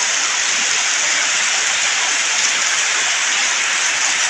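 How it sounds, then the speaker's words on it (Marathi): Heavy rain pours steadily in the Konkan region, a loud, dense hiss holding constant from start to finish with no voices over it. "तर मंडळी पाहू शकता इकडे पाऊस किती लागतोय जोरदार"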